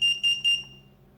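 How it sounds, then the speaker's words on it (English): Three short, high-pitched electronic beeps from a quadcopter flight controller buzzer in quick even succession, then a fading tail; clear and fairly quiet, with no talking. "That's my buzzer."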